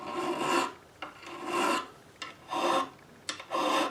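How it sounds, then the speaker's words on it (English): A metal file rasps over guitar frets while recrowning them on a Gibson L48, four steady, even strokes close up with short pauses between them and no talking. "I was using the file to recrown the frets"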